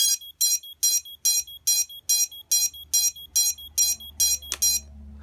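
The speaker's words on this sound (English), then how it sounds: "Because I still have that little piece of paper on the buzzer apparatus." The buzzer on a Skystars Eagle S-221 quadcopter drone kit beeps as it arms: about a dozen short, shrill electronic beeps in a steady, even rhythm, close by, then a low hum as they stop.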